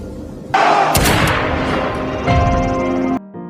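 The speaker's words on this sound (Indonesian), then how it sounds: "Dengan suara tembakan pistol sebagai tanda dimulainya lomba" A starting pistol fires to begin a long-distance walking race: a sharp, loud gunshot bursts out, followed by a booming echo and rumbling noise that fades after a few seconds.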